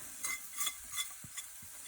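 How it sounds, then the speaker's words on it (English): Spiced dal filling for kachoris and samosas, with black pepper, cilantro and kala namak, stirred in a pan, soft repeated scraping strokes and a faint sizzle, quiet and close. "Let's stir it nicely."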